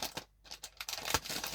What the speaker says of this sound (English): we need a pair of scissors, and we will cut the bag open